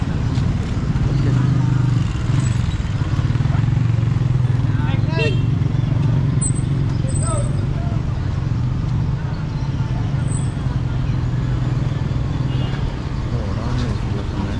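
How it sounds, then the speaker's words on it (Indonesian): Busy street traffic near shopping malls in Medan, Indonesia, with many motorcycles buzzing past amid a continuous roadway roar and occasional faint high chirps, while someone talks over the traffic. "Banyak motor di sini."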